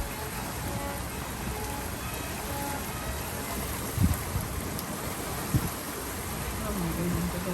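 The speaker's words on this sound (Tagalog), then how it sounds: "Raining so much." Heavy hurricane rain pours in a dense, steady hiss that stays constant throughout, with a couple of brief knocks standing out midway and faint voices beneath.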